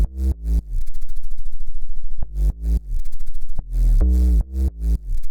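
A Pigments synth preset bass plays alone, deep and loud, in choppy pulsing notes with rhythmic gaps and a short sustained buzzing stretch between bursts.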